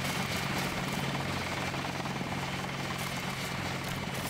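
Helicopter at UNATCO HQ in the video game Deus Ex, a steady droning rotor and engine hum held at even loudness throughout, with no speech.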